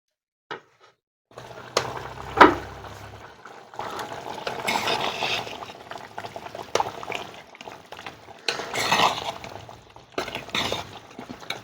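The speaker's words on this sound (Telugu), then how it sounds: "ఒకసారి కలుపుకుంటే చికెన్ కింద మీద మంచిగా ఉడుకుతుంది అనమాట కలుపుకొని మనం మూత పెట్టుకుందాం" A chicken curry is stirred in a clay pot, with wet scraping and sloshing in bursts, a sharp knock of the lid or spoon early on, and fairly close, moderate-level handling sounds with gaps between strokes.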